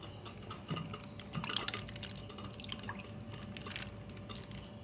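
New fish are released into aquarium water, with faint trickling and soft dripping splashes running quietly throughout.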